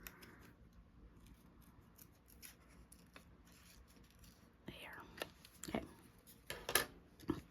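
Sharp scissors trim around a paper My Little Pony cutout, giving a handful of quiet, close snips near the end after a stretch of soft rustling and faint handling.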